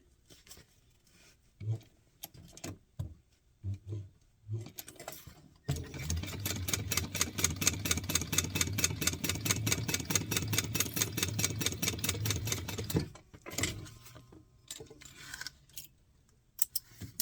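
A sewing machine running a long basting stitch on Oro Rosa pattern fabric, a steady mechanical whir with a rapid rhythmic needle chatter for several seconds in the middle, bracketed by quiet handling clicks.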